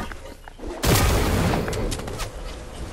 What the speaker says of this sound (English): Someone just started shooting at me.